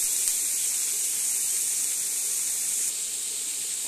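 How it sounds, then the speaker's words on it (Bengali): Sliced banana stem (thor) fries in a pan with a steady, bright sizzling hiss that carries on evenly throughout, close and unbroken, with no voices. "ভালোভাবে নেড়ে চেড়ে মিশিয়ে নেব। এইভাবে ভাজতে হবে।"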